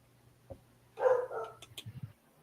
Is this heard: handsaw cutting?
no